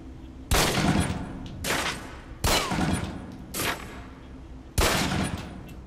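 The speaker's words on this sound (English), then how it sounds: "Equip the pistol, then aim down range and take shots at the target." Pistol fired at a range target in the video game Alpha Protocol: four loud, sharp single shots spaced irregularly, each with a short echoing tail, and no talking.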